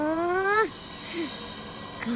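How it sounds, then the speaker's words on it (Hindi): A cartoon cat in a 3D animated Hindi children's story lets out a loud, rising meow, followed by a couple of shorter, fainter mews in the background. "तो तुम हो वो बिल्ली जो मेरे प्यारे मूषक को डरा रही थी।"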